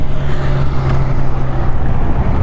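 A 2025 Honda Livo 110 motorcycle pulls away in first gear, its engine a loud, close, steady low drone overlaid with heavy wind rush against the microphone.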